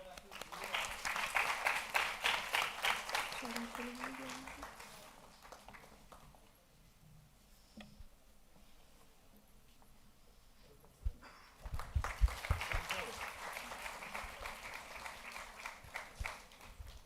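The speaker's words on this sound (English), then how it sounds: "Please give them a round of applause." Audience applause in a hall at a live stage event, two bursts of rhythmic clapping separated by a quieter stretch with faint sounds, the second burst starting abruptly and loud.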